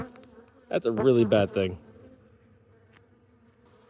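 Honeybees swarm around an opened hive during the last inspection of 2024, giving off a low, steady buzz close by. Someone says a short phrase partway through.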